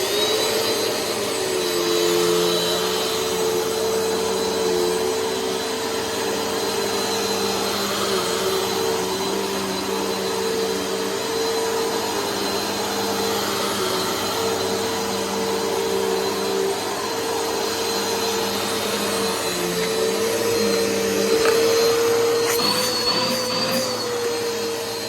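A 2021 Bissell Power Force Helix upright vacuum cleaner runs continuously with a steady motor drone and a high, rough whine from worn bearings, close and unchanging, without any talking.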